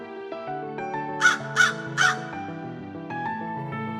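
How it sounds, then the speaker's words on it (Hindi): A cartoon crow caws three times in quick succession, loud and close, over a bright melodic music bed that carries on after the calls. "फिर वह कौवा उस मंडप से वापस जंगल की तरफ जाता है।"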